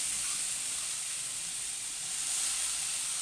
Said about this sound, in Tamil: துருவின கேரட்டை இந்த நெய்யில் போட்டு நம்ம வதக்கி எடுத்துக்கலாம்.